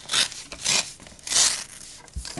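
Scissors snip through a square of paper in short bursts, three main cuts spaced under a second apart, close and fairly quiet, while folding a paper model of an Airbus A320.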